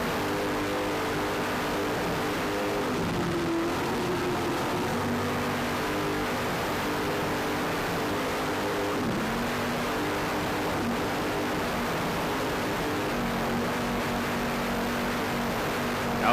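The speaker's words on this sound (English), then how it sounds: "Battle here between these two boats in open class." Open-class racing powerboat engines drone steadily at high revs, a constant roaring hum with shifting pitch as the boats race along, no voices over it.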